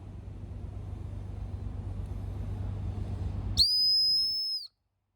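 A CyberWhistle World Cup referee whistle gives a single very high-pitched blast, loud and close, cutting in sharply after a stretch of low traffic-like rumble and ending abruptly about a second later.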